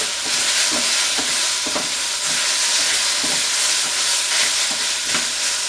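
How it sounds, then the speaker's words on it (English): Garlic and onions fry in a pan and are stirred, giving a loud, steady sizzle with soft rhythmic scraping strokes close by and no talk. "Let's give that a good mixing."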